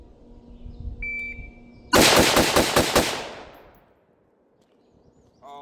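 A BCM rifle fires a fast string of six shots in a split-time drill, the cracks evenly spaced and loud, after a shot-timer beep, with the echo fading away afterward.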